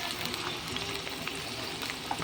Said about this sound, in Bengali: ওই তেলে দিয়ে দিচ্ছি আমি আলু